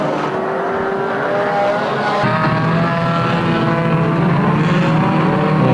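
Banger racing cars at the Kings Lynn Unlimited Banger Icebreaker 2020 lap a raceway, engines roaring and revving loudly and continuously as cars pass close by.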